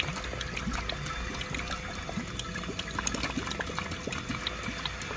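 Water rushes and trickles steadily as a heating system is flushed out by a jobbing plumber, a continuous splashing flow with no voices.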